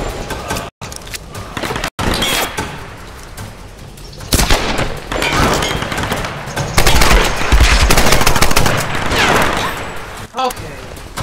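Gunfire in the video game Tomb Raider Definitive Edition: bursts of rapid, machine-gun-like shots inside loud, dense combat noise. It opens with a couple of sharp cracks and builds into sustained firing.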